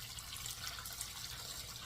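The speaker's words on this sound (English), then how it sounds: "Now we're just going to cover this with water." Water runs steadily into a pot of chicken bones to make broth, a faint continuous pouring rush without any voices.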